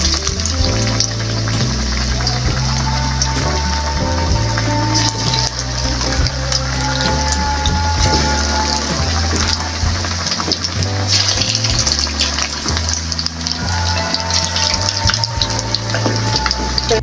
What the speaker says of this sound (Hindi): अब हम इसमें चिकन फ्राई करेंगे